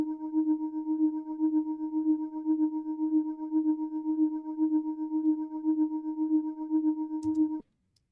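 Tremolo synth pad from the Purity plugin in FL Studio, one sustained chord that pulses quickly and evenly in volume for about seven seconds before cutting off abruptly.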